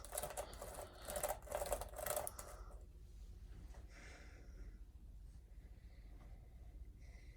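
Function keys hammered rapidly on a 17-inch MSI GL72 6QD gaming laptop during power-up: a quick, close run of clicky taps for about two seconds, then a quiet steady hum.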